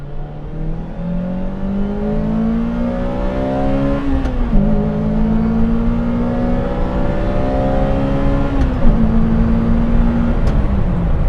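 A Lotus Elise sports car accelerates on an open road, its engine note climbing steadily through two gear changes, loud and close throughout.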